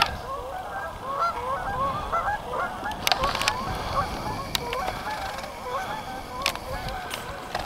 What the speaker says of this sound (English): the Canada geese, there we are